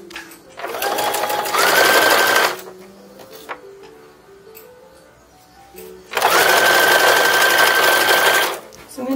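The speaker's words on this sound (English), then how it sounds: "we're going to go ahead and machine sew this one" A sewing machine stitches one-inch ribbon onto a 1910s-style infant sacque. Two close, loud, steady whirring runs of about two seconds each are separated by a quieter pause.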